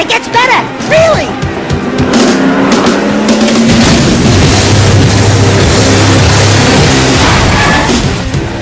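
Car engine in the video game Jak and Daxter, a rumbling motor that starts up and drones steadily at moderate loudness after a burst of voices and impacts, with characters talking over it.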